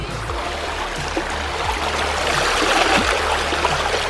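Freezing cold river rushing among large rocks, a steady broadband wash of flowing water with gurgles and trickles, close and continuous throughout.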